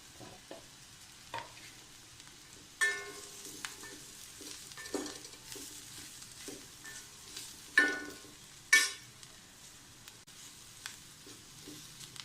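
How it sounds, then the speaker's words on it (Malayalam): Onion and chilli powder roast over low heat in an iron pan, a quiet background sizzle broken by intermittent scraping and stirring clanks of a utensil against the pan. "ഇത് ഇനി ചെറിയ തീയിലൊന്ന് റോസ്റ്റ് ആവണം"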